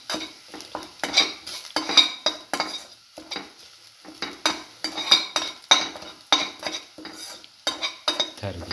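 Shallots sautéing in a pan for a cinnamon omelette, with a spatula scraping and stirring in repeated bursts over a soft sizzle, close and fairly loud, with no talk.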